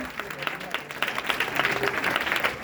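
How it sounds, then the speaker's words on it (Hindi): An audience claps steadily at an achievement event, a dense continuous patter that rises slightly toward the end, with voices mixed in underneath. "हमारे दिनेश सर के लिए एक बार जोरदार ताली होना चाहिए"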